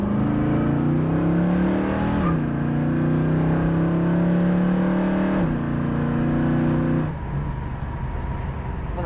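A 1965 Ford Mustang Fastback engine pulls hard while driving, its loud, steady drone dropping in pitch at two gear shifts before easing off toward the end.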